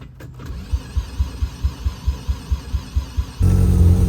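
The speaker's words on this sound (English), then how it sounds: "Car started right up after jumping it" A Mazda RX-7 FC, its battery dead, cranks in a rapid even rhythm of about a dozen starter pulses before the rotary engine catches and settles into a steady, louder running note.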